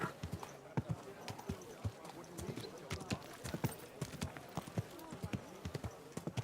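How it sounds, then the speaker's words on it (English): Steady clip-clop of horse hooves on a hard road in the medieval video game Kingdom Come: Deliverance 2, a close, regular trotting rhythm running throughout, with voices chatting over it. "Easy, good horse."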